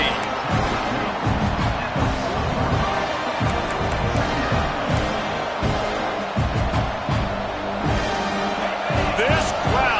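A stadium crowd roars in a college football video game, a steady dense wall of cheering and rumbling noise with rhythmic thumps, heard under near-constant commentator talk.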